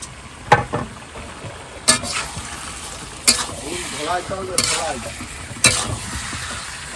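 Meat being stir-fried with ginger, garlic and onion outdoors by a river, loud sizzling with a sharp scrape of the spatula every second or so, and a muffled voice briefly heard in the background.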